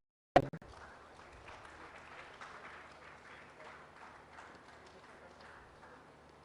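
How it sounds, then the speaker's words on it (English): Steady applause from a crowd starts abruptly after a sharp opening clap and continues evenly, a dense patter of many hands. "We give a big round of applause."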